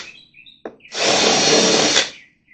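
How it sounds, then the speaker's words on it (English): A power drill countersinks a screw hole in wooden boards on a trailer, a short steady whir of about a second after a faint tap, close and fairly loud. "And I countersink it."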